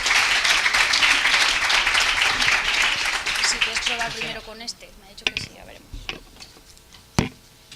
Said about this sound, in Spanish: os recibimos con un fuerte aplauso